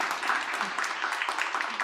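Audience applause at a book concert, dense rapid clapping from many hands filling the space evenly at moderate loudness, with no voice over it.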